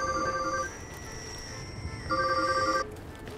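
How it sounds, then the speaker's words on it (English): A telephone rings twice in the video game Deathloop, two electronic trilling bursts separated by a gap of about a second and a half, clear and fairly loud, with no talking over it. "the phone's ringing."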